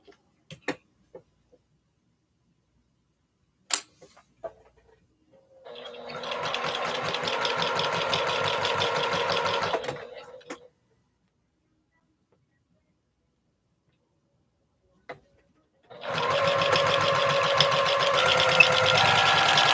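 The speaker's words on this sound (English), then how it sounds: "That's just something I do when I'm locking in my seams." Sewing machine stitching seams on quilt star blocks, two bursts of fast steady mechanical whirring of several seconds each, separated by quiet pauses with a few faint clicks and handling taps.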